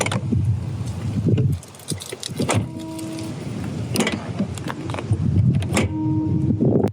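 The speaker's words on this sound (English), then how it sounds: "One of the other great judgments of quality this car has is the way the doors open and close. They sound so nice and feel so good." Doors of a 1988 BMW M5 opening and shutting, several solid clunks and latch clicks close by, with brief quiet gaps between them.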